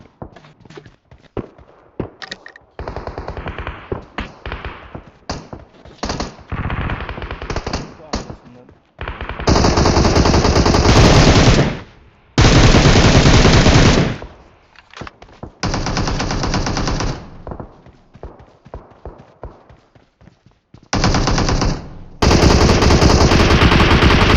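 Loud automatic gunfire in the PUBG Mobile battle royale game, long sustained bursts of rapid shots separated by short gaps, with players talking over the headset between and under the firing.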